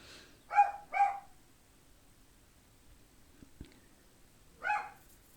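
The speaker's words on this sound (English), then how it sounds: "please ignore the barking dog" A small dog gives three sharp, high-pitched yaps indoors, two in quick succession and a third after a pause, with light knocks between them in an otherwise quiet room.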